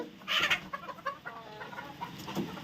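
Chickens cluck softly in short, scattered calls while eating, with light pecking and rustling close by.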